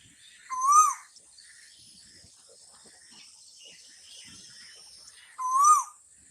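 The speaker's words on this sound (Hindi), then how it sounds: "This bird is making sound." Two sharp, high bird calls ring out several seconds apart over a faint, quiet background of insect-like hiss.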